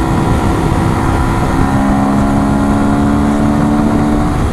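A 125 cc enduro motorcycle engine revs hard and steadily at high rpm, a loud, continuous buzzing drone with no talk over it.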